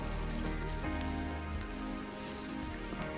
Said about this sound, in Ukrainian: Погода, друзі, дуже мерзена, дощ.